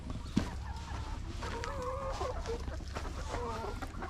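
Free-range hens cluck and murmur close by around a feed hopper, making short, uneven calls over a soft farmyard background.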